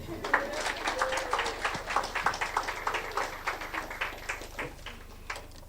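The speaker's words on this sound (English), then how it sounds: "give a clap" An audience at a mental health symposium claps, a fairly sparse, steady round of hand claps that falls into a loose rhythm, heard at moderate distance.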